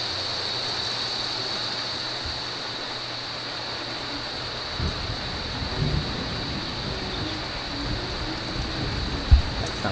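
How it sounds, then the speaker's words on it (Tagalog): Heavy rain pours steadily throughout, a dense constant roar, with low rumbling swells and a few knocks building in the second half. "Ay, umuulan. Lakas ng ulan, oh."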